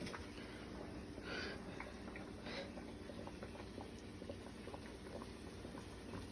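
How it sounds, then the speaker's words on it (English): A pot of rump roast simmering over a low flame gives off a steady, soft bubbling hiss that continues evenly throughout, with no one speaking. "we're going to just turn that on down to a low simmer"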